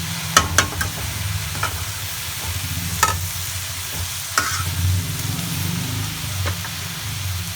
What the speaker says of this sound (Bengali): এইভাবে কয়েক মিনিট নাড়াচাড়া করলে শাকটা আলতো হয়ে যাবে